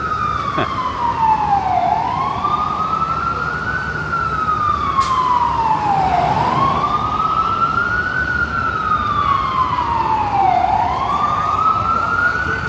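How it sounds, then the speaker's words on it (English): Wailing emergency vehicle sirens rise and fall in long sweeping cycles over steady street traffic noise on 6th Avenue, New York City, loud and fairly close. "I'm just listening to the sirens now, wondering where they're coming from."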